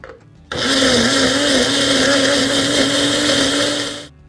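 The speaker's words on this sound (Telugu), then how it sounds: "రైస్ని ఇప్పుడు మనం మిక్స్ చేసి ఒక పేస్ట్ లాగా తయారు చేస్తే" Mixer grinder blending rice into a paste for bagara rice: a loud, steady high-pitched motor whine with grinding roar that starts abruptly, holds for several seconds up close, then cuts off, no voices over it.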